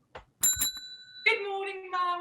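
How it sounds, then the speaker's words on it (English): Bell rung a couple of times with bright ringing tones, clear and close, with a voice speaking briefly. "Ooh, a bell."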